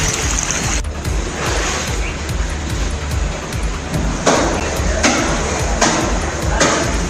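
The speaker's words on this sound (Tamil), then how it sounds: "நெல்லை மாவட்டத்தில் கனமழை காரணமாக தாமிரபரணி ஆற்றில் தண்ணீர் வரத்து அதிகரித்து" The Thamirabarani river in Nellai district runs swollen after heavy rain near the Kurukkuthurai Murugan temple. It makes a steady, loud rushing roar with wind buffeting the microphone.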